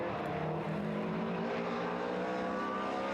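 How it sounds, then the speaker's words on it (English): TVR Challenge race cars accelerate out of the complex at Thruxton circuit, a steady, loud roar of several engines blended into a continuous wash of motor noise. "Accelerating their way now up out of the complex for the first time."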